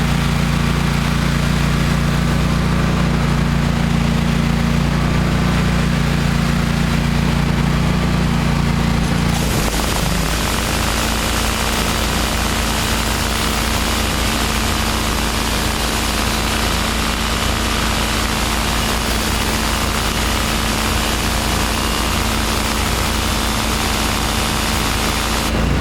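A 31HP hot water pressure washer running at 3500 PSI and 9 GPM drones with a low engine hum, then the spray kicks in partway through as a loud, continuous hiss for the rest of the stretch.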